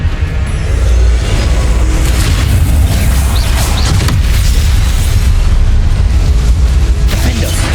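Spell blasts in the Hogwarts Legacy video game, a dense continuous barrage of loud booms and bursts layered over game effects.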